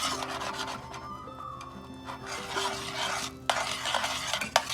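Flour stirred by hand into a pot of clam chowder made with Pismo clams, a steady close scraping and swishing rub with faint sizzle beneath, a few sharper clinks toward the end.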